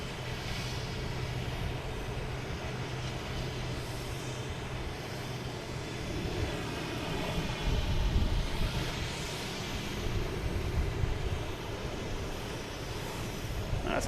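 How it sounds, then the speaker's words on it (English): An American Airlines Airbus A321 landing at Boston Logan gives off a steady, faint, distant rumble of jet engines that slowly swells and fades against broad outdoor noise. "next plane coming in is American Airlines coming from Los Angeles, an A321, Flight 12"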